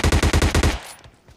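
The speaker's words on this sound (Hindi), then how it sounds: "तभी मुझे पीछे से बॉट फायर की आवाज़ आती है" A rapid burst of automatic gunfire from bots in PUBG Mobile Lite, about eight shots in quick succession, then fading echoes and a few faint distant shots.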